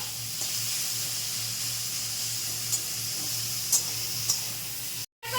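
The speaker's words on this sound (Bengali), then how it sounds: "আলুটাকে একটু ভাজা ভাজা করে নেবো" Potatoes seasoned with salt and turmeric fry in a pan, giving a continuous close hiss of sizzling oil with a low steady hum beneath and a few soft clicks, then a brief cutoff near the end.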